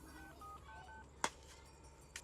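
A short sequence of telephone dialing tones, faint at first, followed by a sharper click or beep, all fairly quiet.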